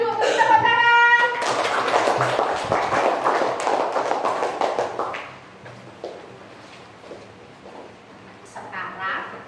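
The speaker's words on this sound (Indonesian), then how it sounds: "tepuk tangan" Children in a classroom clap together in a burst of quick, loud claps that fade, with some voices and chatter mixed in before the noise settles.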